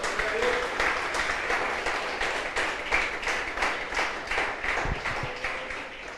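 A church congregation applauds during a Spanish-language sermon on firstfruits, a steady wash of clapping that runs throughout, with a faint voice or two mixed in.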